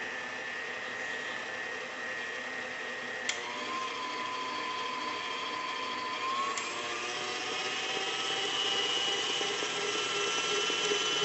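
A heavy duty kitchen stand mixer runs steadily, a constant whirring motor hum with a faint high whine, holding even throughout with no talk.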